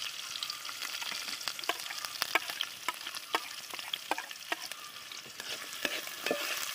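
Green chillies, garlic and ginger fry in hot oil for a jackfruit pickle, crackling and sizzling steadily up close while a utensil stirs through them with frequent sharp scraping ticks.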